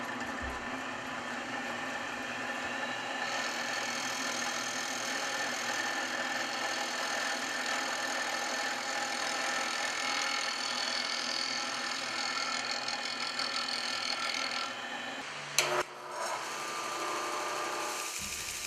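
A belt sander grinds the flat back of a cast metal Warhammer 40k chapter emblem, giving a steady, loud, continuous whirring drone that runs unbroken for about fifteen seconds before cutting off with a brief clatter.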